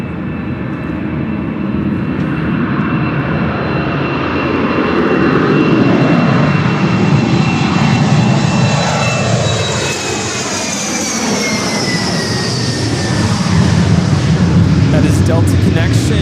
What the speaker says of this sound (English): That is Delta Connection, operated by Republic Airways 5818, taking off to Boston on the E175